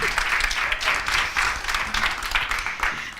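A crowd applauds the MC at a spring opening ceremony, a continuous wash of clapping from a sizeable audience, steady and fairly loud throughout.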